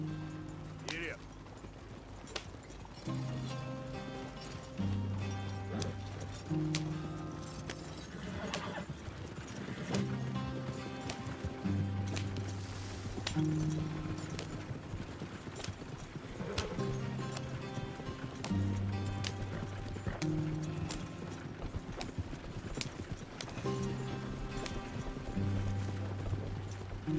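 A horse in a PS4 video game whinnies and its hooves clip-clop at a gallop, running steadily through most of the stretch beneath game music and occasional voices.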